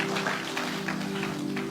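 Church congregation applauding, a steady dense wash of clapping over a sustained organ or keyboard chord, moderately loud and continuous throughout.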